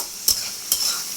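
Beef frying with chopped garlic in a pan: a steady soft sizzle with two quick spoon scrapes, close and brief.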